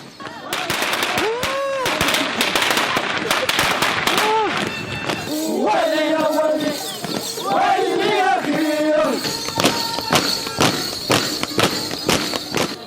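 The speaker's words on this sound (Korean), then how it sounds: "큰 소리를 내며 터지는 폭죽이 저희를 맞이합니다" Firecrackers crackle in dense, rapid bursts amid a noisy outdoor Christmas festival crowd in the Plaza de Armas, Cusco, Peru, with shouts and cheering rising between volleys and bright clatter continuing toward the end.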